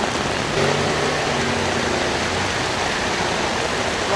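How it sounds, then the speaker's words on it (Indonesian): Heavy rain pouring during flooding in Jakarta, a dense steady hiss of downpour on the street that fills the whole stretch at constant loudness, with no voices. "hujan deras mengguyur Jakarta"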